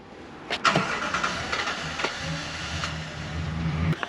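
A Dodge Ram 1500 truck with start-up problems cranking: a few short clicks and bursts, then a rough engine turnover that settles into a low, uneven rumble, heard close.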